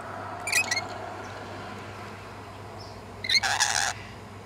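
Large cockatoos give two short, harsh screeching calls a few seconds apart over a steady low background hum.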